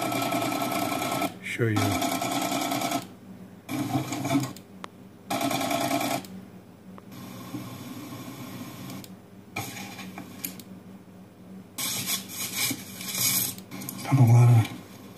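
A Brother embroidery machine stitches a test cross-stitch design in bursts of rapid mechanical whirring that start and stop, with a person talking between and over the runs.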